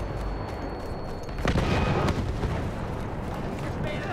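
An in-game bomb blasts during a World War I battle in Battlefield 1, a loud close burst with a rushing crackle that fades into rumbling battlefield noise.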